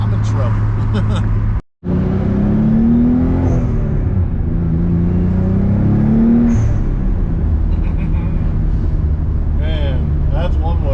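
A Nissan 300ZX engine revs up and down close by, rising and falling whine over a steady drone with blow-off valve hisses, someone talking over it.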